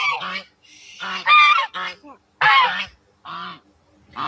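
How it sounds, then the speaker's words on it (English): An African goose honks loudly and repeatedly up close, harsh nasal calls coming in several bursts with short gaps between them. "he is an African goose. He is very loud, noisy, and violent."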